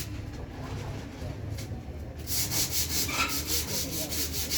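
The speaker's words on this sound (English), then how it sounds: "So I'm scrubbing to remove the leaf dust." Terrazzo floor being scrubbed to lift leaf dust, a soft steady rubbing that turns into louder rhythmic back-and-forth strokes partway through, with faint birds cooing in the background.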